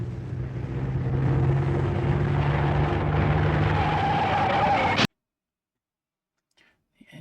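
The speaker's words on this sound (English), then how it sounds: "Classic car crash with engine noise." A classic car crash with engine noise: a loud, continuous engine roar and skid runs for about five seconds, then cuts off abruptly to near silence, with a faint trailing rattle near the end.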